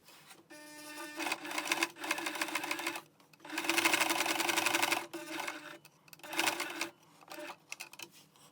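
Sewing machine stitching cotton face-mask fabric in several close, whirring runs of rapid stitching, separated by brief pauses, with no talking.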